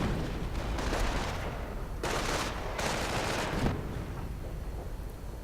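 Dense, continuous gunfire and battle noise in a World War II strategy game, with rolling bursts and heavy reports in a sustained barrage; individual sniper shots are not distinct within the din.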